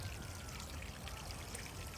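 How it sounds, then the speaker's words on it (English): Bear Creek flowing gently through Bear Creek Gardens, a soft continuous trickle and babble of water, steady and quiet with no voices. "It's a nice sprinkling stream, really."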